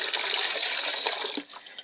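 Homemade walnut stain poured from a container into a bucket, a steady close splashing gush of liquid that thins out and trails off near the end.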